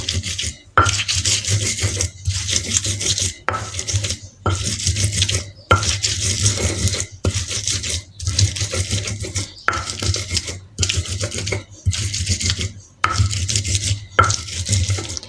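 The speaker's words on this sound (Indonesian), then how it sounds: "setelah kita ulek bawangnya, kita masukin terasi yang sudah kita bakar tadi ya Bun. Kita ulek terasinya." Grilled shrimp paste being ground in a mortar with a pestle, close and loud rhythmic rasping scrapes in repeated strokes with short pauses between them.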